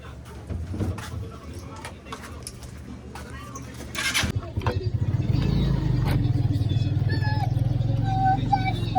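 A motorcycle with a sidecar is started after keys jangle and people chat. The engine catches partway through, then settles into a steady, close, low idling rumble that continues to the end.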